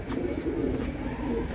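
Pigeons coo from a rooftop loft, soft low throaty warbling repeated steadily and fairly near, mixed with light background rustle and no speech.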